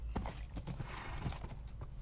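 Horse hooves clip-clop in Minecraft and a whinny rises among them, close and fairly loud in quick uneven steps.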